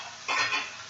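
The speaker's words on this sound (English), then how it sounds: "I'm going to turn this down a bit because it's sizzling quite nicely." Flour-dusted scallops sizzle in a hot pan, a steady close frying hiss that swells into a louder burst partway through and then settles back, with no voices.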